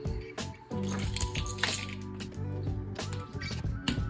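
Plastic Rubik's cube piece being pried and popped off, a flurry of close sharp clicks, snaps and rattling plastic knocks in quick irregular succession.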